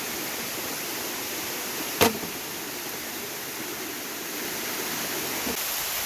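A steady, broad rush of falling water from a very tall waterfall in the upper Marikina area fills the whole clip, constant and fairly loud, broken once by a brief knock.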